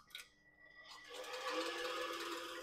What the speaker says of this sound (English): We need to get the egg whites whisked until we have stiff peaks. And now let's whisk them up.